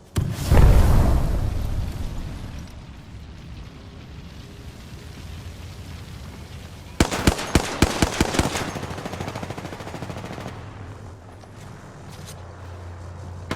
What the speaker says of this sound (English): Grenade out. Throwing an arc star.